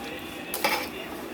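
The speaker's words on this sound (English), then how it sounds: "you want to move your pasta around to make sure that the pastas don't stick as often as possible" Lasagna pasta pushed around in a metal pot with a utensil, a brief scrape and a couple of clinks against the pot over a quiet kitchen background.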